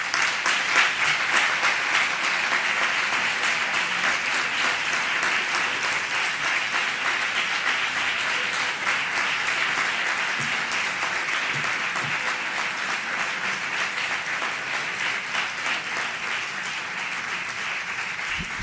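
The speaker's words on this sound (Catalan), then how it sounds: "el que toca és ara fer-li un claríssim aplaudiment" Sustained audience applause at a conference on alternative penal measures, a dense, steady clatter of many hands that holds evenly loud for the whole stretch, with murmurs beneath.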